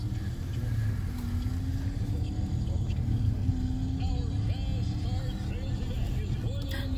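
A car driven by a fifteen-year-old learner gives a steady low engine and road drone from inside the cabin, with voices talking throughout.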